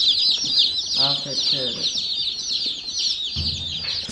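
Baby chicks peep in a dense, continuous high chorus inside an aluminum watering-trough brooder, close and steady throughout, with a voice speaking briefly over them.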